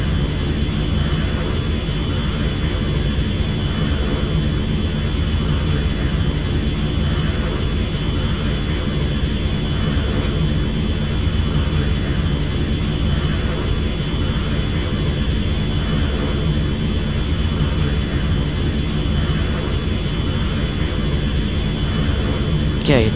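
An L-39 Albatros jet flying over Europe at night, heard as a loud, constant engine roar and broadband cockpit noise with a steady whine, unbroken for the whole stretch.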